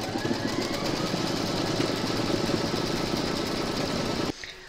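An embroidery machine stitches a lined stocking with a rapid, steady mechanical chatter, close and continuous for over four seconds before stopping abruptly.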